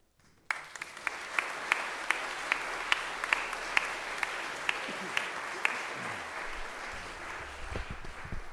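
Audience applause at a school headmaster's gathering for a staff member starts suddenly and continues as a dense, steady patter with a few louder individual claps, fading as a voice begins underneath near the end.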